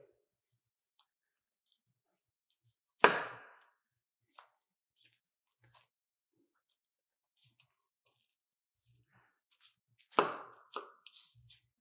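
A knife cuts and trims a deer front quarter during home butchering, giving two distinct close, crisp cutting strokes with soft scrapes and small clicks between them in an otherwise quiet room.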